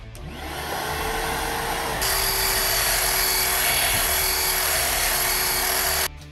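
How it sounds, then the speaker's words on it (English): A Restorer strip-and-sand power tool spins up to a loud, steady high whine with a shop vac collecting dust, holding the pitch for several seconds before cutting off abruptly. "What makes this tool different than an average sander is the ability to evenly distribute pressure across the surface"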